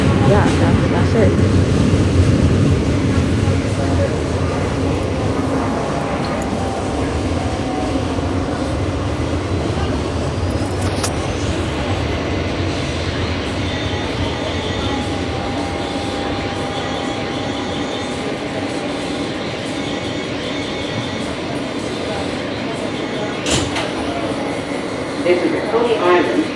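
A Coney Island–Stillwell Avenue bound F local subway train rumbles steadily with a continuous broadband roar, while a voice speaks over it throughout.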